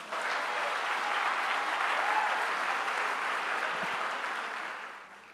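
A church congregation bursts into sustained applause acclaiming the Lord, a dense, steady wash of clapping hands that holds for about four seconds before tapering off near the end.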